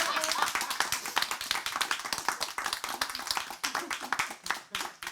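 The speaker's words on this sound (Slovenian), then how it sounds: "Dajmo prosim en aplavz za mladega Ženina." Guests clap for the groom at a wedding, a moderately close burst of hand claps with brief taps and chatter mixed in, fading and swelling for a few seconds.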